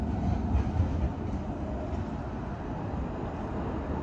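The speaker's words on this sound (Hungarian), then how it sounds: "Ezzel a villamossal föl fogunk menni a Széchenyi rakpartra a kihúzóig a kollégával" A Budapest tram runs along the Danube embankment as a continuous low rumble with rolling rail noise, steady and fairly loud, with no voices.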